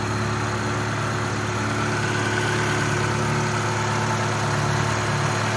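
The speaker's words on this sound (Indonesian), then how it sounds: "mesin injeksi stasionernya aman ini masih langsam" A fuel-injected Mitsubishi Lancer Evo 3 engine idles smoothly, giving a steady, even hum with a constant low drone, recorded close with no voices and no change in revs.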